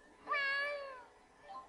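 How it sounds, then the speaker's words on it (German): A cat in the Tales of Xillia 2 video game gives one clear, drawn-out meow, near and distinct, then a faint shorter trailing note against a quiet background. "Meine Katze ist zurückgekehrt."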